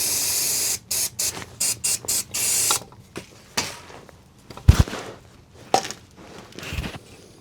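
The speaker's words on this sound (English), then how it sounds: "Quick spray of brake cleaner." Brake cleaner sprayed from an aerosol can on a Mercedes W463 G500 during a differential and transfer case oil change, several short hissing bursts in quick succession, then a longer spray, followed by scattered clanks and knocks of tools and parts, no talking.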